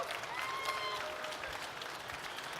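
Faint audience applause and crowd noise at a gaming convention in Toronto, greeting a costumed Ghostbuster fan called to the stage; a steady patter of clapping with a few whistles and voices.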